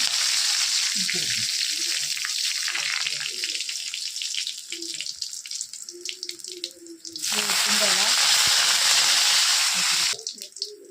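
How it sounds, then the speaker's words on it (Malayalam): Dried red chillies hit hot oil with mustard seeds for aval upma, a close crackling sizzle that swells into a loud rush, then drops back partway through. "ഇനിതാ അതിലേക്ക് ഉണക്കമുളകിട്ട്"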